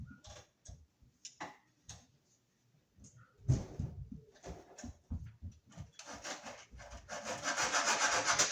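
Armor of MC electrical cable being cut with a hacksaw, with irregular rasping strokes that build to a steady, louder sawing toward the end, close by.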